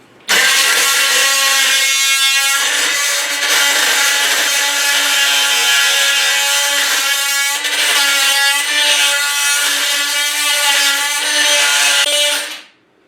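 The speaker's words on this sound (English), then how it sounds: "little drywall screws here that we're going to try to cut with this multi-bit blade that they have" A DeWalt cordless tool fitted with a multi-bit blade cuts through small drywall screws, a loud, sustained high-pitched grinding whine lasting about twelve seconds with a brief dip midway.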